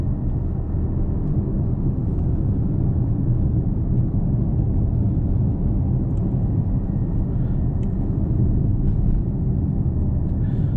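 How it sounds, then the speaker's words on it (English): A 2023 Mazda CX-60 Takumi cruising on a rural road, heard from inside as a steady low rumble with soft wind noise rushing over the wing mirrors, constant and unbroken, with no voices. "how the only real sound is perhaps a little bit of wind noise rushing over the wing mirrors"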